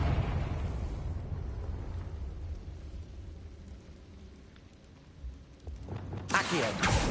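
A Confringo blasting spell from Hogwarts Legacy erupts as a deep, rolling explosion that rumbles and slowly fades, followed by a sharp, bright burst near the end.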